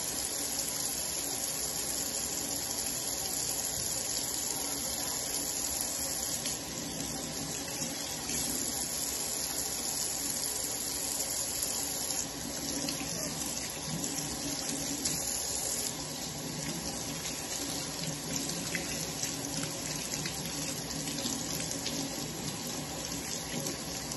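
A tap runs steadily and loudly into a sink for the whole stretch while hands are scrubbed beneath it, with a constant rushing hiss and splashing that never breaks.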